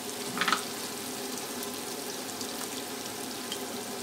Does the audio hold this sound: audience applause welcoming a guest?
no